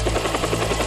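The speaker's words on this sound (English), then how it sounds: "On cue, the extraction chopper arrives and the teams are uplifted with all on board." An extraction helicopter arrives for a New Zealand SAS patrol pickup, its steady rotor throb and engine whine loud and close throughout the short moment, with no voices.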